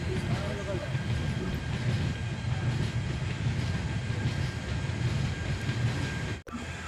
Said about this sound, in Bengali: সাঁইতিয়া জংশন ছেড়ে আমাদের ট্রেন এখন এগিয়ে চলল